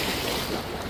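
Sea water washes up a beach in Kuwait in a brief burst of broadband surf noise, the rushing wash blended with gusty wind buffeting the microphone.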